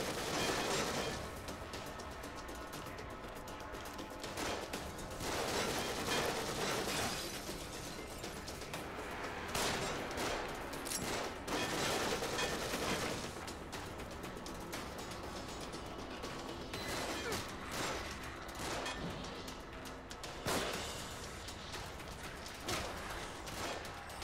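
Rapid, continuous mechanical gunfire from an enemy machine gunner in The Evil Within, a horror video game, with dense rattling bursts sustained throughout, loud and close with no talk.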